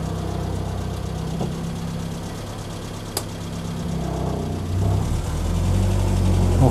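A 1980 Land Rover Series 3 88-inch lightweight soft top idles steadily just after starting, a close, continuous low engine drone that swells slightly louder toward the end, with a single sharp click partway through.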